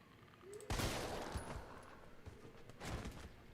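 Magnum revolver headshots fired in the Resident Evil 3 Remake video game, heard as a few loud, sharp booming reports with lingering tails, the main blast near the start and another burst toward the end.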